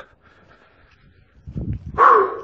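A dog out on a countryside walk near a village gives a short whimpering yelp after some soft rustling and footsteps, close and fairly loud.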